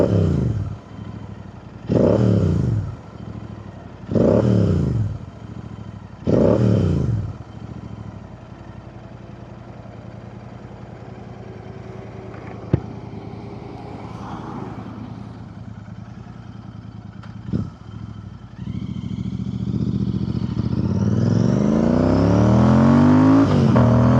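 Royal Enfield Interceptor 650 parallel-twin motorcycle engine revving close by: four sharp throttle blips, then a steady idle, then a long rising rev that climbs and holds loud at the end.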